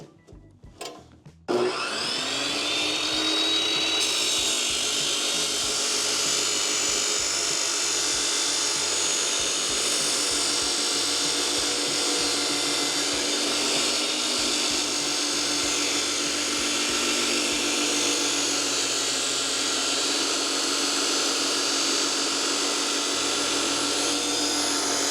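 Kobalt 14-inch chop saw spins up after a click and runs loudly and continuously, a sustained high whine close by with no talking over it.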